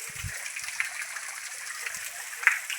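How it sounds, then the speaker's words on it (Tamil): Water running along an irrigation channel on a 2.75-acre areca nut plantation near Anthiyur, Erode, giving a steady broadband rush with occasional small splashes, close and continuous throughout. "தண்ணி ஓடிட்டுருக்குங்க."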